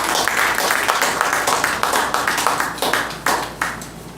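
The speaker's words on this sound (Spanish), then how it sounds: "Dale un aplauso al Señor con todo tu corazón." A church congregation claps during a Spanish-language sermon, with loud, fairly rhythmic hand claps forming distinct repeated beats, close and lively, with no speech on top.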